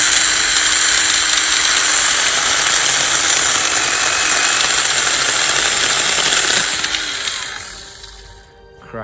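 Powered saw cutting through a fallen branch outdoors, a steady loud high motor whine running close for most of the time, then winding down and fading near the end.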